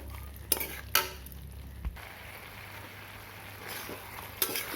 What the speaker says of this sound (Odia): ତେଲ ଛାଡ଼ିଲା ପର୍ଯ୍ୟନ୍ତ ଭଲ ଭାବରେ ଚିକେନକୁ ଭାଜି ନେବା।